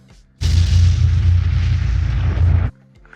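A single loud gunshot-like boom, held as a sustained roaring blast of about two seconds with a heavy low rumble, standing alone between quiet stretches.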